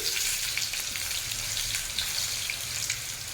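Sliced potatoes fry in a pan over a high flame, a steady close crackling sizzle with scattered popping spatters throughout.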